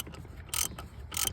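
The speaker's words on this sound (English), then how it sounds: "it's a 24mm socket, and just like that." Ratchet turning a 24mm socket during an oil change on a 2015 Dodge Grand Caravan, giving two quick bursts of clicking a moment apart, close and fairly quiet.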